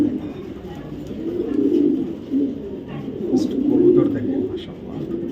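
Low, murmuring coos from several racing pigeons roll on continuously, with faint scattered chirps and distant voices behind them.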